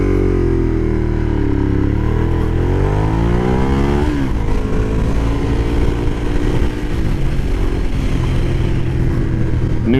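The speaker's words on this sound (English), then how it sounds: "this bike is amazingly balanced and feels extremely agile in the corners" A 2013 Ducati Diavel AMG motorcycle on the move, its engine droning loud and steady with rising and falling pitch as it accelerates and shifts, mixed with wind noise throughout.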